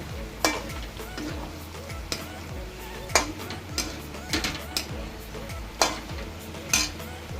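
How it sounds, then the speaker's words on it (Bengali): Paneer and boiled potatoes are stirred in a hot pan. A utensil scrapes and knocks against the metal in irregular strokes over a steady background sizzle. "পনিরটা দিয়ে এটা নাড়াচাড়া করবেন"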